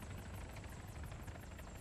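A helicopter in the Arma 3 game thrums with a fast, regular rotor chop over a low engine drone, steady and moderately distant for the whole stretch, with no talking.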